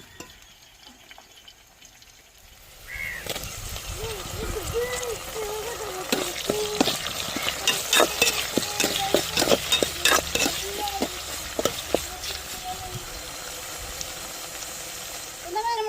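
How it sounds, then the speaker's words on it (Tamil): After a quiet start, onions, tomatoes and green chillies sizzle loudly in a hot pan, with a spatula repeatedly scraping and stirring; brief faint voices come and go. "வெங்காயம் தக்காளி பச்சை மிளகா எல்லாமே வதங்கி வந்துருச்சு"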